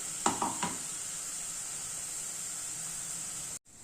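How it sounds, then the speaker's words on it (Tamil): A steady, close sizzle of tomatoes sautéing in hot oil, with a couple of brief stirring scrapes near the start before it cuts off. "இது கொஞ்சம் எண்ணெயில் வதக்கிக்கலாம் தக்காளியை ஊற்றியாச்சு"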